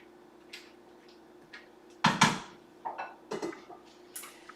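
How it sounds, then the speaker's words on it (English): Light clinks and scrapes of a utensil against a ramen pot on the stove as broccoli and peas are stirred, with scattered taps and one louder clatter over a faint hum. "stir this again so we're getting all of our broccoli covered"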